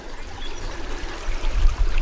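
A small, low-flow creek on a trail in Zion National Park trickles and burbles close by, a steady soft rush of running water with no voices.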